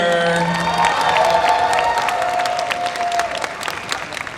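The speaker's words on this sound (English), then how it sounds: "All right, one more big round of applause for Chocobo and his keeper." A crowd at the Visioncon 2023 cosplay contest breaks into loud applause with cheers and whoops, a dense burst of clapping and shouting voices that gradually thins out.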